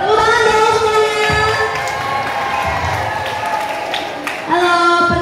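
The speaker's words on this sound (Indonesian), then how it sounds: "Tepuk tangan dong semuanya." An audience claps and cheers, with children's voices mixed in, at a live school extracurricular session on preventing online gambling; a dense, loud wash of noise that swells again near the end, with some talking.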